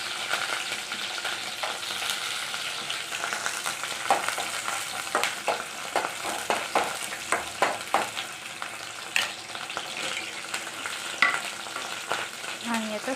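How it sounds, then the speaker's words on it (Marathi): Onion, green chili and peas frying in a pan, a steady sizzle with repeated scraping and stirring clicks from a spatula, close and continuous with no talk. "मग मी असंच लगेच फ्राय करत आहे. आता त्याने कांदा आणि मिरची टाकलेले आहे."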